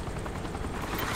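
Helicopter in the video game Saints Row the Third, a steady loud rotor drone with a dense, continuous rumble throughout the brief moment.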